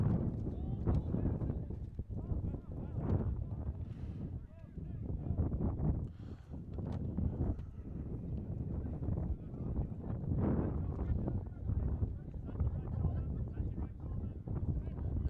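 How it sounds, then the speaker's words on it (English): Wind gusts around an outdoor soccer field, buffeting the microphone in a steady low rumble of thumps that carries on beneath the voice of a commentator. "Wind still swirling around now."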